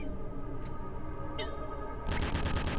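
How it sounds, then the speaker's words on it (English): Gunfire from a sniper rifle in a zombie mod video game, with sharp shots over a constant game background and a denser burst of firing near the end. "This sniper rifle's really good."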